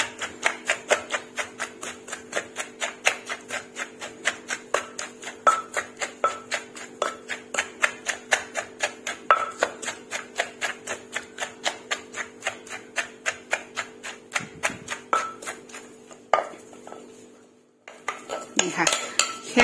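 A wooden pestle pounds spicy green bean salad in a mortar, a steady rhythmic series of close knocks that continues for most of the time before a brief pause and a few clattering strikes.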